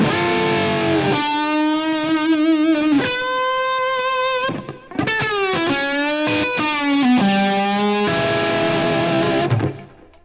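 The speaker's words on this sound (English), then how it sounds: "So now we should have some reverb on our solo as well." An electric guitar solo played through an HX Stomp with reverb, sustained bent notes and quick runs ringing out with trailing decay, loud and alone.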